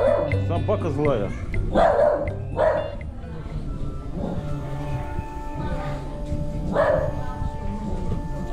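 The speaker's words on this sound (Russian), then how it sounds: "Собака злая" A dog barks several times nearby, sharp yips in uneven bursts, with people talking around it.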